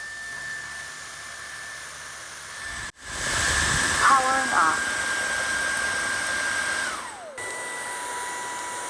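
A Dreame H15 MIX cordless vacuum cleaner in turbo mode: a steady, loud whooshing motor drone starts abruptly and runs for several seconds with a high whine, then a pitch shift near the end as it powers down.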